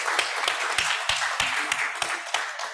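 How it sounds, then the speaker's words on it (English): Audience applause at an innovation seminar, a brisk run of many hands clapping with sharp individual claps standing out, loud and continuous throughout. "Let's give them a round of applause."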